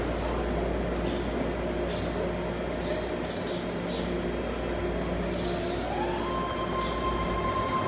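A new BART Fleet of the Future train sits at a station platform, its steady electrical hum and ventilation drone running continuously, with a faint tone rising near the end.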